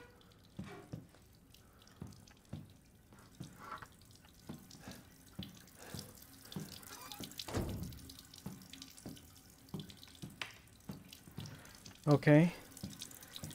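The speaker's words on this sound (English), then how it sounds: "I tried to turn the water off, but it won't let me." Water streams steadily from a tap in Resident Evil Village, a continuous close faucet hiss with soft drips and clinks, and a voice speaks briefly near the end.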